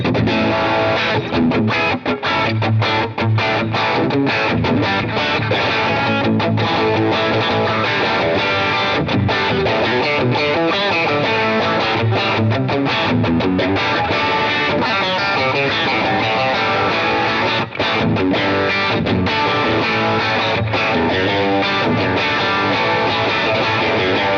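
A heavily distorted electric guitar, a 1954 Fender Stratocaster, plays continuously, thick and fizzy with saturated gain, loud and upfront with no voices.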